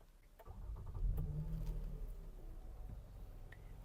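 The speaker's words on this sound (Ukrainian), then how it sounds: "Авто заводиться кнопкою старт-стоп." A 2016 Lexus RX350 engine, started with a push button, cranks and catches, then settles into a steady low idle rumble.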